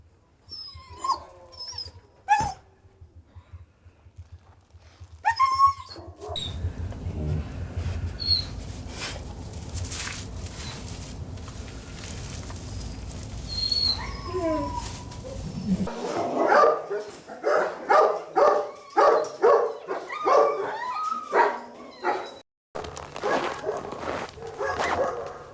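Many dogs in a rural dog pound on a bitterly cold day barking, yelping and whimpering, with sharp high cries early on, then a stretch of steady rumbling noise and a dense run of loud, close, overlapping barks near the end.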